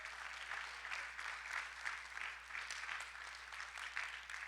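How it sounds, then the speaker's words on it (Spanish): Sustained applause from a church congregation, steady and even throughout with no break, heard at moderate distance. "Dense aplauso al Señor."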